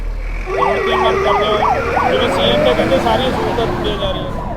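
A fire engine's wailing siren rises and falls in rapid repeated sweeps at a shop fire in Khanna, loud and close over a rumbling vehicle engine and the noise of the street.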